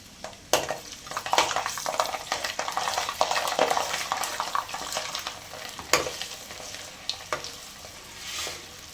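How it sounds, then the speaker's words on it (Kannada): Garlic cloves and dried red chillies fry in hot oil, a close, busy sizzle broken by sharp utensil scrapes and clinks against the pan, with no one talking. "ಎಣ್ಣೆ ಇದಕ್ಕೆ ಹಾಕ್ಕೊಂಡು ಸ್ವಲ್ಪ ಇದು ಫ್ರೈ ಮಾಡ್ಕೊಳ್ಬೇಕು"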